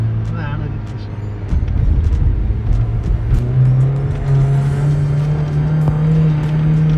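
A Volkswagen Polo GT driving on a road during a test drive gives a steady, close engine drone that rises gently in pitch as it pulls along, with road and tyre rumble beneath.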